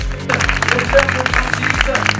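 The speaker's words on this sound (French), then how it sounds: "Allez, vous allez applaudir encore plus fort pendant 20 secondes." Crowd applause at a cyclo-cross race in Lanarvily, scattered clapping over an announcer's amplified voice and background music.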